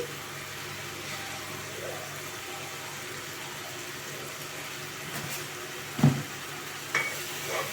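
Spice masala of chili powder and coriander powder cooks in a pan for fish biryani, a low steady sizzle with a couple of sharper clinks and scrapes from stirring near the end.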